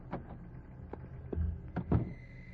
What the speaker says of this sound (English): If it isn't asking too much, I'll unlock the door.